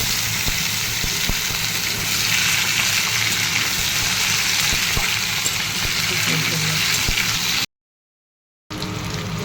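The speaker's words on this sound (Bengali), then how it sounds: "এদিকে আলু ভাজা হচ্ছে" Potatoes frying in a pan, a steady loud sizzle with faint clicks and knocks underneath, cutting off abruptly before resuming briefly.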